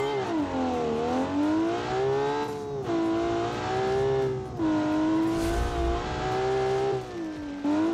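A 1985 rally car in BeamNG.Drive, its engine revving hard and close, the pitch rising and falling in repeated surges with brief dips between, a strong droning tone under faint tyre noise.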